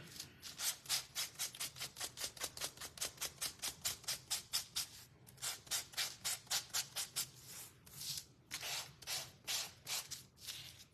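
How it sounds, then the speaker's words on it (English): A wooden craft piece being sanded by hand, a fast steady series of rasping back-and-forth strokes, close and clear, pausing briefly midway before resuming, with no talking. "And then I'm gonna sand it."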